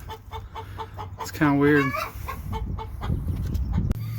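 Chickens cluck close by in a repeated rhythmic pattern, with one louder drawn-out squawk, one hen going broody; a person speaks briefly over them at a chicken coop.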